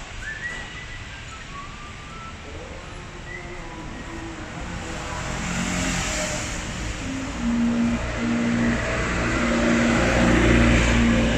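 A modified, lowered Almaz car with replaced springs and a double muffler revs up, its engine note swelling gradually louder and rougher toward the end.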